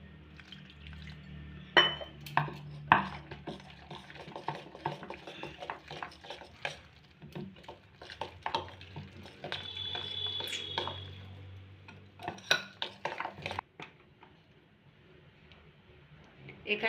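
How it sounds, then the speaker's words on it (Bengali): Dhokla batter of gram flour is mixed with water in a bowl, making uneven clicking, tapping and wet stirring sounds up close, with pauses and scattered louder knocks. "এবার আমি এখানে একটু একটু জল দিয়ে ধোকলার ব্যাটারটা বানিয়ে নেব।"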